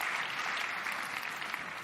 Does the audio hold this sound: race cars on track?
no